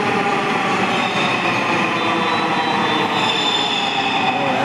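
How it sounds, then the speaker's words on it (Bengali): A Dhaka metro rail train bound for Uttara arrives at a station, a loud, continuous rumbling roar with high wheel squeal sustained throughout. "এই যে আমার ট্রেন চলে আসতেছে"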